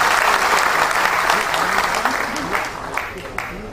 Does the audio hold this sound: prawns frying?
no